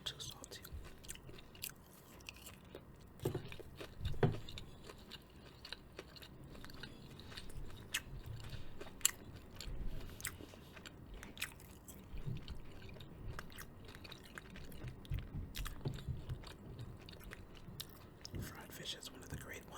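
Someone chews fried fish close to the mic, with soft crunchy bites and wet squishy mastication repeating in an uneven rhythm over about twenty seconds, quiet and intimate, with occasional faint breathy sounds.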